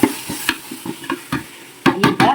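A spoon mixes curd into egg biryani masala in a pan, with repeated scraping strokes in a steady rhythm over a soft sizzle.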